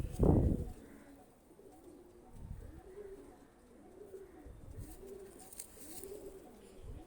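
A male Pakistani high flyer pigeon coos in a soft, repeated rhythm of low rolling calls, close by and fairly quiet. It follows a sharp thump at the start, and faint room noise sits underneath.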